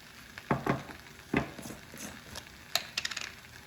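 Paneer cubes and vegetables sizzle softly on a tawa while a spatula stirs them, giving a few sharp scraping knocks and patters over a low, steady frying hiss.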